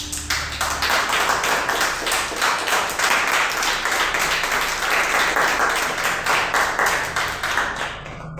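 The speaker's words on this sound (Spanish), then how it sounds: "¿Por qué no le da un aplauso?" A church congregation breaks into steady, dense applause during a sermon on faith, many hands clapping together at close range for several seconds before tapering off near the end.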